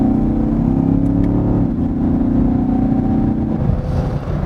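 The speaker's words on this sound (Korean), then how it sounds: "가속 페달을 밟았을 때 일단 차가 달려나가는 느낌, 상당히 힘있는 그런 모습을 보여주는데요" A Chevrolet Camaro SS pulls away under acceleration in sport mode, a deep, steady, powerful engine drone heard from inside the car, loud and continuous with no talk.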